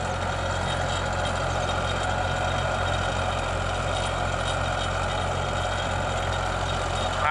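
A Farmtrac 45 tractor, 45 horsepower, runs with a seven-foot rotavator mounted on the back in a wheat field, its diesel engine giving a steady, loud, unbroken drone throughout.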